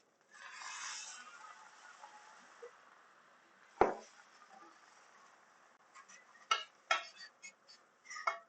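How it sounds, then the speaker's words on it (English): Keto stuffies filling being stirred with clam juice in a bowl: soft scraping and stirring, a sharp utensil knock near the middle, then a run of light clinks and taps toward the end, close and quiet. "Alright, now we're mixing around."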